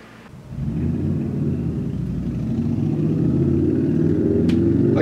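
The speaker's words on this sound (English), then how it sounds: "Again with the motorcycle." A motorcycle passing outside gives a steady, low engine rumble that swells slightly louder toward the end, with no voices over it.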